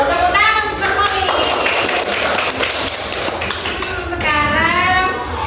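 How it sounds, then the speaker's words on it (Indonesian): Children in an elementary school classroom clap their hands together in rhythmic bursts, loud and close, while kids' voices chatter over and around the claps. "Tepuk tangan untuk Kepolis."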